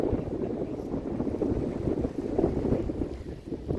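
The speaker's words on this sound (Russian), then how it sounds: "Ветер свищет" Steady wind blowing hard across the microphone on a beach at Watamu, Kenya, a continuous low rushing roar with gusty swells and no voices.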